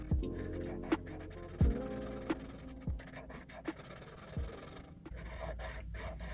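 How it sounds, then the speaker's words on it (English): Pencil shading wooden planks on sketch paper, a continuous close scratchy rasp with repeated strokes about every half second to second, alone without talk. "So shading very heavily, then shading very lightly."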